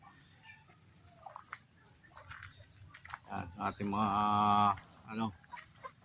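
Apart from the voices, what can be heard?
chickens clucking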